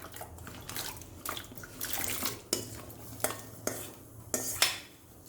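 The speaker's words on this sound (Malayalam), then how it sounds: "അതിലേക്ക് നമുക്ക് അരിഞ്ഞു വെച്ചിരിക്കുന്ന കപ്പ ഇട്ട് കൊടുക്കാം" Chopped cassava pieces dropped into a pot of water on the stove, a series of sharp clinks and knocks against the metal pot with light water sounds between them, close and fairly quiet.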